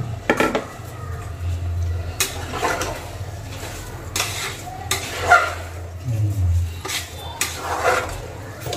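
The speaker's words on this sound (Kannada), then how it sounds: "ಅಕ್ಕಿ ಹಾಕ್ತಾ ಇದ್ದೀನಿ." Rice going into a cooking pot for vegetable palav brings clattering, rattling and scraping of metal utensils, with irregular knocks and rustles close by.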